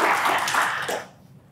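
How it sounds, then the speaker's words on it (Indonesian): Audience applause at a Q&A event, a brief burst of clapping that is fairly loud for about a second before fading out. "Tepuk tangan teman-teman."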